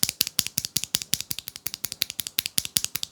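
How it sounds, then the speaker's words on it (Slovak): Rapid, steady keystrokes on a Redragon NOVA K709 HE keyboard with magnetic Hall-effect switches, sharp clicky-sounding taps repeating about eight to ten per second, close and fairly quiet, with no talking. "Poďme sa teraz pozrieť na to, že ako tento switch znie."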